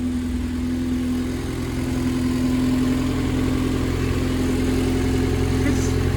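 A Honda Civic with a K-swapped 2.4L VTEC engine runs on just its manifold with no exhaust fitted, giving a loud, steady, raw idle drone with a constant low hum.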